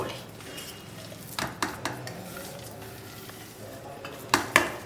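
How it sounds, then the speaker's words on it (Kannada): Chana dal vada batter being mixed by hand in a pot with ground dal flour and curry leaves, giving a steady wet stirring and scraping sound with a few sharp clinks of utensil against the vessel near the end. "ಆಡಿಸಿರೋ ಹಿಟ್ಟು ಹಾಕ್ಕೊಂಡು ಚೆನ್ನಾಗಿ ಕಲಸಿ."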